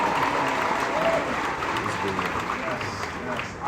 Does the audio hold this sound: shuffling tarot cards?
no